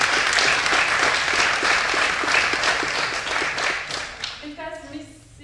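Audience applause at an opening ceremony: dense, sustained clapping from a sizeable crowd, steady and loud for about four seconds before thinning out, with a voice starting to speak as it dies away.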